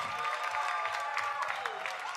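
An audience at a konpa dance challenge applauds continuously through the whole stretch, a steady crowd clapping with some faint cheering mixed in.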